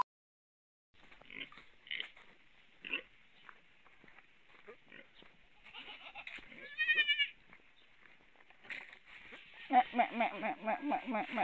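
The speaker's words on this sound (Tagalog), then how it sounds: "Inumin natin ang ating kambing" Pet goats bleat at a backyard feeding in the Philippines, with scattered cries through the middle and a louder run of repeated bleats near the end, mixed with nearby speech.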